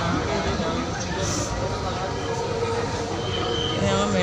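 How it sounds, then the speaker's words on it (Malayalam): A metro train pulls in and then carries on running, a steady rumbling roar of wheels and carriage with a brief high squeal, continuous and fairly loud, with voices murmuring underneath. "മെട്രോ വരുന്നു. മെട്രോ നമുക്ക് കയറാനുള്ള മെട്രോ."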